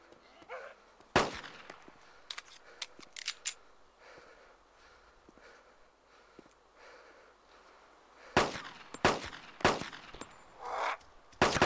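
Gunfire in the video game DayZ, with a sharp burst early on, scattered quieter shots through the middle and a dense cluster of loud rapid shots near the end.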